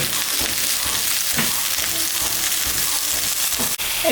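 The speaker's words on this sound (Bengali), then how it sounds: "সজনাটা ভাজা ভাজা হয়ে গেছে। এখন আমি আলু সেদ্ধ করাটা দিয়ে দিলাম।" Drumstick (moringa) pieces and boiled potato fry in oil in a pan, with a steady, close, bright sizzle. Occasional stirring scrapes come through, and no one speaks.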